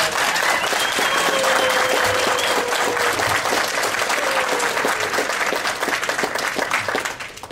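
A convention audience breaks into loud, sustained applause, dense clapping filling the room steadily before tapering off slightly at the end.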